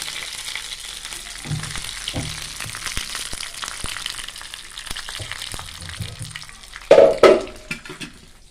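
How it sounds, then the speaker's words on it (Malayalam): Curry leaves frying in hot oil with mustard seeds for a sambar tempering, giving a steady crackling sizzle close by, punctuated by sharp spits and a loud burst of sputtering near the end. "കുറച്ച് കറിവേപ്പില കൂടി ചേർത്തെടുക്കാം."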